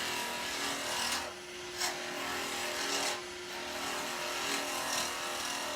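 A wood lathe turns a pen blank, a steady hum with a tool rasping against the spinning workpiece in several brief bursts, no voices.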